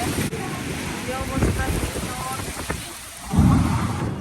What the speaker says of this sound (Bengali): দেখেন কি জোয়ার বৃষ্টি